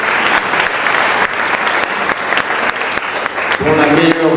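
An audience at a civic excellence awards night gives loud, steady applause, a thick wash of clapping that carries throughout, with a voice coming in over it at the very end.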